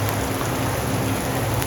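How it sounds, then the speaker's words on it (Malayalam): Heavy rain pouring steadily in Kerala, a dense, continuous hiss of drops drumming on surfaces with no pauses, close and fairly loud. "മഴ നല്ലോണം തകൃതിയായിട്ട് പെയ്യുന്നുണ്ട്."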